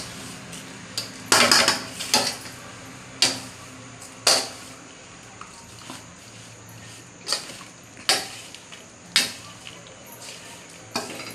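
Grated coconut with cashew and almond powder is mixed in a bowl for fasting laddoos, a spoon knocking against the vessel in repeated sharp clinks at an irregular pace.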